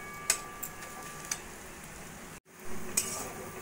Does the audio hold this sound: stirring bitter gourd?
yes